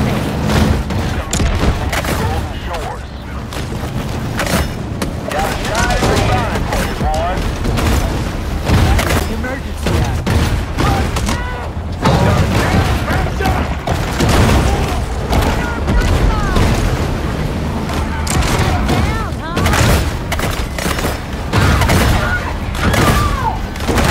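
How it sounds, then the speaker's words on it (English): Gunfire from hunters in the Maneater shark video game, a dense continuous barrage of booming shots and thuds with rapid bursts layered over rumbling game noise, loud and close for the whole stretch. "a dangerous army of lawless, trigger-happy sadists begin shooting anything that moves"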